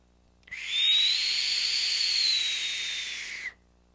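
A big vape mod whistles steadily through a single three-second hit, a thin high whistle riding over a loud airy hiss that starts and stops abruptly.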